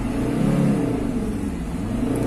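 Volkswagen Transporter T4 with a 2.5 TDI diesel engine and a traction problem, revved while stationary: a loud, close, steady low-pitched diesel drone that rises and eases slightly, with no talk.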